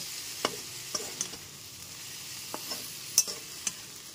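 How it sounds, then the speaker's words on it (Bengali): Fried okra is stirred with spices in a pan for a potato curry, a soft steady sizzle broken by a handful of sharp spatula scrapes and clinks against the pan, with no voices. "সমস্ত ভেজে রাখা ভেন্ডিগুলো দিয়ে দেওয়ার পর খুব ভালো মতো মশলার সাথে আরেকবার কষিয়ে নেব।"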